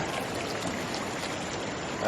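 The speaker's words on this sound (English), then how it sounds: "That is a lot of water coming out of there." Pond overflow water rushing out of a pipe after a storm on a farm, a steady dense gush of flowing water, close and continuous for a couple of seconds.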